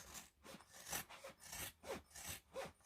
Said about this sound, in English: I'm just trimming this down to about 1/4 inch.